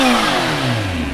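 A Kawasaki Ninja H2 with a full custom build and carbon wheels revs, its supercharger giving a loud rising whine that sweeps down in pitch as the engine drops, close and unbroken.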